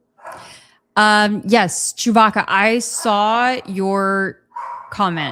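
A dog barks and whimpers intermittently in a home, partly masked by someone talking continuously over it.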